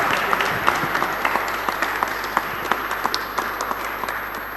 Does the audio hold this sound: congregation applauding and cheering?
yes